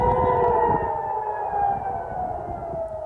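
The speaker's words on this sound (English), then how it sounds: "Those air raid sirens sent people in Israel scrambling for shelter." A wailing air raid siren in Israel during an Iranian missile attack drones steadily with a slow rise and fall in pitch, loud and unbroken, with no voices.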